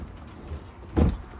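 A single short sliding thud of a stern anchor locker lid on a 2021 Sea Ray SDX 250 Outboard boat moving along a track, close by, after a quiet stretch.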